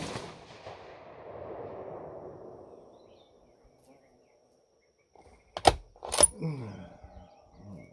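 Two sharp, sudden rifle cracks from a .280 Ackley ring out in close succession after a stretch of faint background hiss and near silence.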